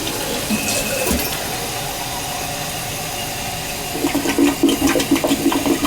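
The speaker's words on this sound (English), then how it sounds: "If that don't flush, we know there's something stuck in there for sure." A badly blocked household toilet flushes with a loud, close rush of water, the gurgle turning into rhythmic surging pulses toward the end.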